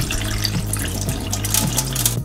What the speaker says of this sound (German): Mit sanften Handbewegungen reinige ich den Reis mit kaltem Wasser und wiederhole den Vorgang 2 weitere Mal